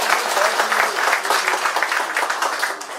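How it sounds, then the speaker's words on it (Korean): A crowd at a Korean New Year party gathering claps loudly on cue, a dense steady wash of hands lasting the whole moment and tapering slightly at the end. "이분들 박수 한번 크게 쳐주세요."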